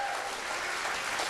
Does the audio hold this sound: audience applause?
yes